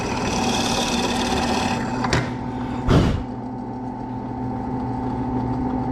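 A drill press boring a mortise in wood runs as a steady machine drone throughout, with two brief louder swells of cutting near the middle.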